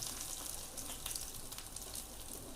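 Onion and garlic drop into hot oil for the tempering of a Ceylon spinach sambar, giving a soft, steady sizzle and hiss that runs without a break and stays fairly quiet.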